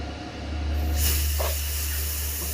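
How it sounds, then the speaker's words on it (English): A steady hissing fizz of gas released from a submersible's ballast tanks, rising after the first second and continuing over a constant low hum. "The fizzing noise you're hearing is gas being released from the ballast tanks"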